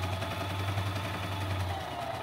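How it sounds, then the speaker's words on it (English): A sewing machine backstitching along a fabric face mask, a steady low mechanical hum and rapid stitching vibration, close and continuous throughout. "Now I'm gonna backstitch."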